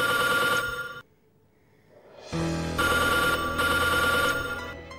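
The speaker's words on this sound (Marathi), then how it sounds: "एवढ्या रात्री कुणाचा फोन?" A telephone rings late at night, insistent electronic ringing bursts close by and loud, broken by a short silent pause before the ringing resumes, with no voices.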